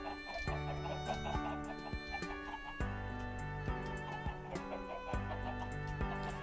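Chickens cluck steadily in the Minecraft video game, with faint crowing set against a sustained tonal game-music bed and no voices.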